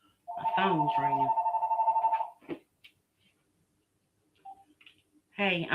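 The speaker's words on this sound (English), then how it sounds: "My phone's ringing." A mobile phone rings near the mic with a sustained electronic ringtone for about two seconds, followed by a short click and then a person starting to speak.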